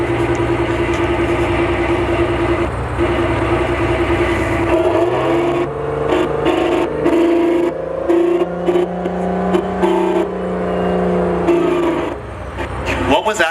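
A Canadian military tracked vehicle, a modified M113, pivots 360 degrees in place: a loud engine drone shifts pitch and revs with whirring as it turns, while someone talks over it.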